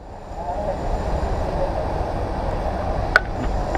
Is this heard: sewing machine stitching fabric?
no